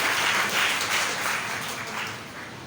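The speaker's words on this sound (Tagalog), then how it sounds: "Palakpak muna sa Panginoon." A church congregation claps and applauds together, a dense, sustained wash of hands that gradually tapers off over a few seconds.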